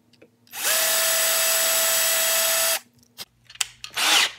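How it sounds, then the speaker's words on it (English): A drill boring a 1/8 inch pilot hole in wood for a muzzleloader build: one steady, loud whine lasting about two seconds, then brief clicks and a short burst of noise, with no talk. "now we'll drill out the 1/8 hole"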